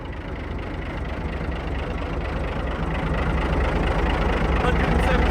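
An abandoned tank's engine running, a continuous heavy low rumble that builds slightly in loudness toward the end, with a voice faintly present.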